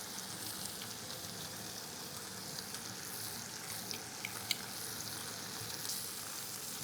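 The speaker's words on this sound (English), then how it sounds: "We want to cook these lobster tails on high, medium high." Lobster tails searing in a hot pan over medium-high heat, a constant close sizzle with faint scattered pops and spits throughout, no talking.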